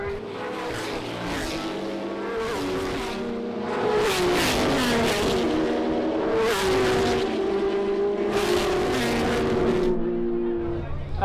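Classic race car engines howl and rise in pitch as they pass in waves around the Goodwood circuit during a Members' Meeting race, loud and continuous, with a commentator speaking over the noise.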